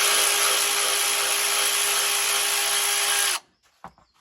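A power tool driving screws on a Leyland DAF T244 whirs steadily at high speed for a few seconds, then cuts off, followed by a couple of faint clicks.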